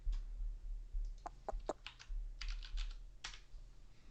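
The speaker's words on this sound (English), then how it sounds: "And then I'm going to type the route here." Keys clatter on a computer keyboard as a flight route is typed into an Airbus A319 flight simulator, quick irregular bursts of taps close by over a low steady hum, with no talking.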